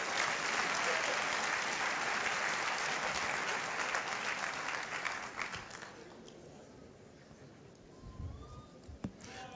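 A church congregation applauds to welcome a bishop during a Portuguese-language service: loud, dense clapping for about six seconds that then thins and fades, leaving a few scattered claps and faint room sounds.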